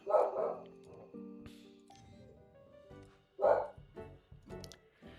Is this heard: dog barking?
yes